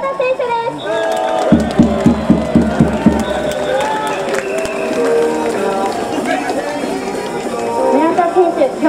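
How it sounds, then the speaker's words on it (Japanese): A stadium crowd roars and cheers for baseball player Murata at a 2018 post-game hero interview, a dense, sustained wash of noise with a rhythmic burst of chanting or clapping early on and an announcer talking over it. "皆様大きな声援でお願いいたします。"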